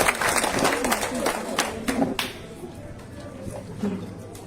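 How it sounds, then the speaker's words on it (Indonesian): Applause from the audience at a school graduation ceremony, a steady crowd of hands clapping in a hall that fades slightly after the first couple of seconds, with a voice speaking faintly underneath. "Kita berikan tepuk tangan dulu."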